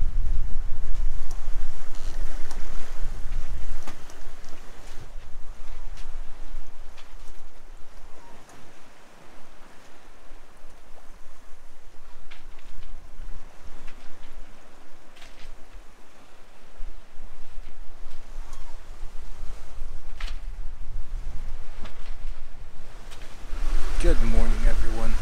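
A sailboat under way at sea at night in the Mediterranean, with a continuous rush of wind and water past the hull that dips in the middle and swells again near the end, and faint voices in the background.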